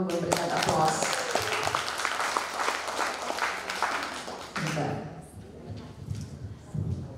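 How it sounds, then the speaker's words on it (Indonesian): Seminar audience applauding together, a dense, steady clapping wash filling most of the clip before thinning out near the end, with scattered voices underneath. "Kita tepuk tangan dulu, memberikan aplaus."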